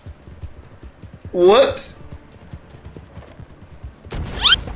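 Horse hooves clip-clop in Red Dead Redemption 2 Online, with a rider falling off the horse. A brief burst of hoof and tack noise mixes with game sounds and a loud vocal outburst, while people talk over it.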